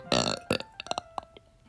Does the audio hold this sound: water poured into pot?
no